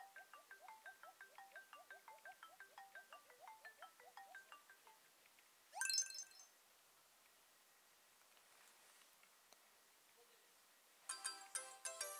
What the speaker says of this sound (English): that's the home phone ringing in the background